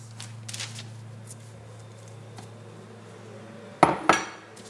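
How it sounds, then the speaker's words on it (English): Chocolate chip cookie dough is cut out with a cutter in a home kitchen, giving two quick sharp clicks and scrapes near the end over a low steady hum, with faint tapping earlier. "I'm going to cut out our first one."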